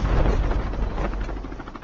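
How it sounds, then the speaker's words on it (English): Helicopter landing at the base of a tower in a video game, a loud, dense rotor roar and rumble that stays constant and close for the whole moment, with no speech. "Landing chopper at the base of the tower."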